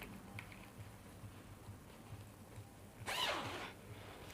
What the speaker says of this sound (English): So you open your zipper.